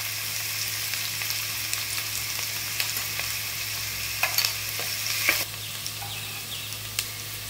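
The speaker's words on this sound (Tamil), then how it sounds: "இப்போ இஞ்சி பூண்டு பேஸ்ட்டு போட்டுக்கலாம்." Ginger garlic paste frying with onions in a pan gives a constant crackling sizzle with occasional stirring clinks and scrapes, close and steady, no speech over it.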